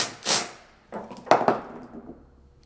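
A Snap-On 3/8 impact wrench busts a nut with short, loud rattling bursts: one hammering burst, a pause, then two more quick close bursts that ring briefly afterward, with no voices.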